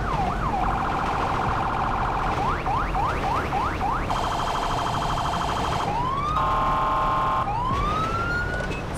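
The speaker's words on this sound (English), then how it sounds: "different sirens do put out different" Police car siren in the GTA V LSPDFR game, cycling loudly through several patterns: fast rising whoops, a steady high tone, then a yelp, continuous and alone without talk.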